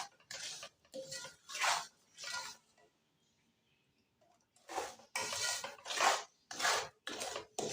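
Moong dal roasts in a pan over a slow flame for panjiri, stirred in a run of rhythmic scraping strokes that pause briefly midway and then resume, with no voices.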